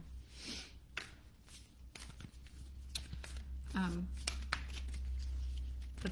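Tarot cards are shuffled by hand in quick, soft riffling bursts and papery slides, close and quiet, broken up by brief muffled speech.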